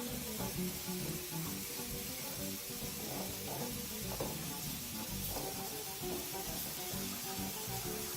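Shrimp cooking in a pan over very low heat, a faint, steady sizzle and hiss with occasional soft stirring scrapes, quiet and continuous.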